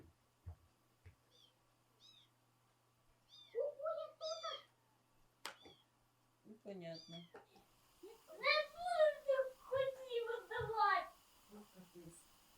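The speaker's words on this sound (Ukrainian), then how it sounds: "А то Гарфілд, ми його так назвали за те, що він балакучий, а він нявка" A talkative cat meows repeatedly indoors, a series of short and drawn-out cries close by, with people talking in between and over some of the calls.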